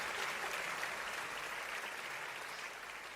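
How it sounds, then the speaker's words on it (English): Round of applause during a virtual graduation ceremony, a continuous wash of clapping from many hands, fairly even and moderately loud, slowly easing off toward the end. "It's well deserved, the virtual round of"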